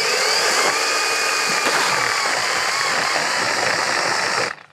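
A battery-powered pole saw cuts through a big tree limb outdoors, its steady high motor whine and chain buzz running loud and unbroken for several seconds before cutting off at the end.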